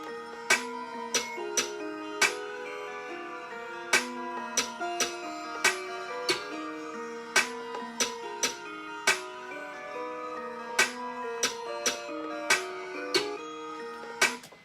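A steady beat with sharp, evenly spaced percussive hits over a sustained tonal backing, with a few extra pitched-down snare hits accenting the pattern.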